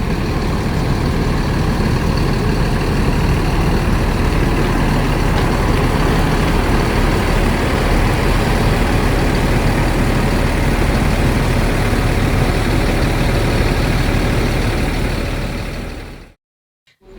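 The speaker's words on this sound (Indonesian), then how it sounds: "Wah, ini ada yang berangkat. Bus Juragan 99 Trans dengan julukan Tweety." The Juragan 99 Trans bus, nicknamed Tweety, departs with a loud, steady diesel engine drone. The heavy low rumble holds close and constant for about sixteen seconds before cutting off abruptly.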